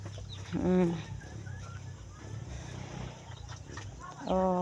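A chicken clucks twice, short sharp calls near the start and end, over a low outdoor rumble with faint background sounds.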